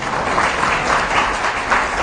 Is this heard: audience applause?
yes